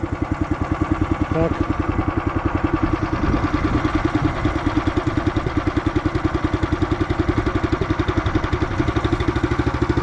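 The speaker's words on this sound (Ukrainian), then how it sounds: "Так що зараз я запускаю двигун." A planting machine's motor chugs at a steady, rapid idle, loud and close, with a brief spoken word near the start.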